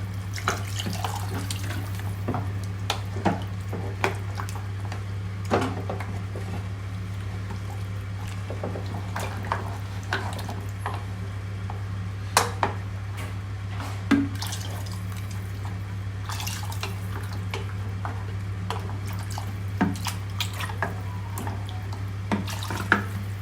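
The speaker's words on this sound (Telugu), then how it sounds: "ఇది వాటర్ నేనైతే సూప్ ఎక్కువ కోసం అని చెప్పి వన్ లీటర్ తీసుకుంటున్నాను" Water runs steadily into a pot for mutton paya, a goat trotter soup, with a continuous splashing flow over a low constant hum, broken by occasional clinks and knocks of utensils.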